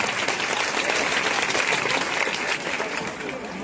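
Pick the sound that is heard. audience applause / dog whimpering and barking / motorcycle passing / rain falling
audience applause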